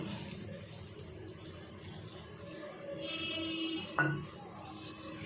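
A steady trickle of water runs, then a short brighter pouring splash as a glass of water goes into a pot of ridge gourd, onion and tamarind, before a small knock; a low background hum continues throughout.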